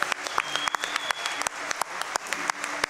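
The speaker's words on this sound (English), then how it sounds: "Can we get one more round of applause for our runners?" Audience applause for speedrunners after an Ori and the Blind Forest any% race at a live charity marathon event, a steady dense crowd clapping with sharp individual claps standing out throughout.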